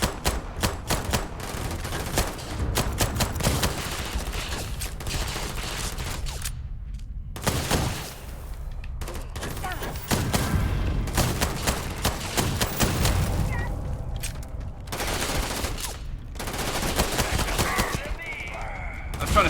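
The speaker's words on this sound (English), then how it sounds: "Trying to scare that one into surrendering by shooting the area around them." Bursts of gunfire from the sci-fi game Starfield, sharp rapid volleys sweeping around a target, loud and near with brief pauses between strings of shots, with some talk in the background.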